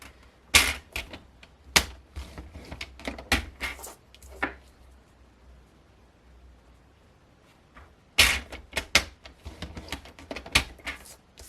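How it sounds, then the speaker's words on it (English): Paper trimmer slicing cardstock, a series of sharp, close clicks and scraping blade strokes in two bursts separated by a few seconds of quiet, with no talking. "I prefer to use my trimmer"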